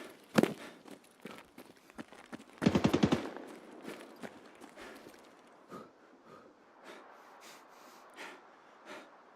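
Video game machine gun fire from a gunner, with a few sharp close shots and a dense rattling burst, then fainter scattered shots and movement sounds, with no talking.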